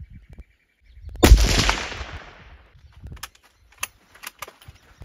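A single loud gunshot cracks out at a red cola can target in the Australian outback, followed by a long decaying echo, then scattered faint clicks and ticks.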